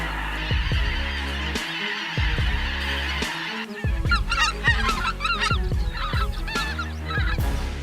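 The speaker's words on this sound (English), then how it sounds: "Invasive wild geese have become a serious problem in many areas of Texas in recent years." A flock of invasive wild geese in Texas honking repeatedly, loud nasal calls overlapping in an irregular rhythm close by, with a low steady hum underneath.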